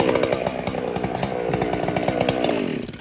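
A chainsaw cutting a veneer log, running loud and close in a steady, revving drone with rhythmic surges through the cut before it tails off at the end.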